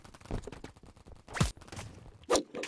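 A few sharp gunshots ring out at intervals, quick cracks against a quiet background.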